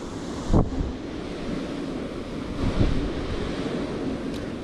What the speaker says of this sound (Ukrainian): почав дути вітер сильно, сильніше